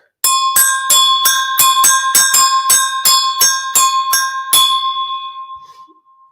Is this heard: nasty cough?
no